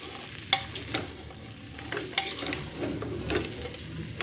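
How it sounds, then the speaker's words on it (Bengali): Meat frying with spices in a pot for khichuri while being stirred, a continuous sizzle with occasional scraping taps of a spoon, moderately close. "সুন্দর করে সব মশলা দিয়ে আগে মাংসটা কষিয়ে নিছি"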